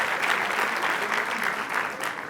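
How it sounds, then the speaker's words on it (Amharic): Warm applause from an audience at a film launch event, dense steady clapping from many hands filling the room, close and loud throughout with no break. "ሞቅ ባለ ጭብጨባ"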